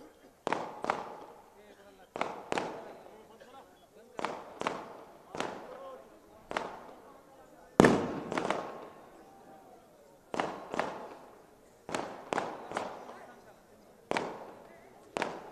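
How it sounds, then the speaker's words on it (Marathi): Firecrackers burst during an outdoor political rally speech, a series of sharp loud cracks in uneven clusters, about a dozen over the stretch, each with a short echoing tail. "एक फटाके बंद करा रे."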